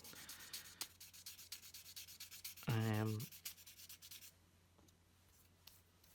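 Plastic parts from a 1/144 High Grade RGM-79G Gundam model kit are sanded by hand with sandpaper, a close, quiet rhythm of short scratchy strokes, briefly interrupted by a loud humming tone.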